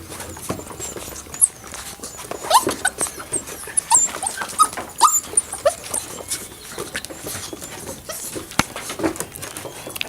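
Puppies play with toys up close, with scattered squeaks, small whimpers, pattering paws and rustling knocks in an irregular, lively stream.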